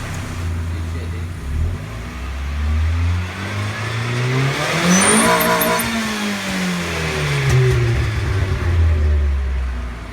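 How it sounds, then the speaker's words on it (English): Engine of a Mazda NA Miata with a newly fitted exhaust revving up and down in a steady rise and fall, loud and close, with a deep droning exhaust note throughout. "It's pretty much all engine noise right now. It sounds pretty good though."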